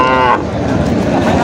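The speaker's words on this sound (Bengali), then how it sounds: "এই যে এখানে একটি গাভী গরু কিন্তু চাচা নিয়ে দাঁড়িয়ে আছে।" A dairy cow at a Bangladeshi cattle market gives a single loud, close, low moo that fades into crowd murmur.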